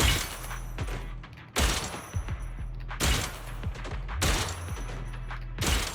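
Repeated bursts of loud, dense gunfire from the action game Zenless Zone Zero, coming in roughly evenly spaced waves with thuds and shattering hits mixed in, close and continuous with no talking.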